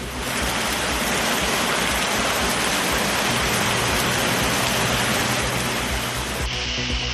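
Heavy rain driven by wind pours down in Madurai, Thirumangalam and Theni, a constant loud, hissing wash of water that barely changes throughout.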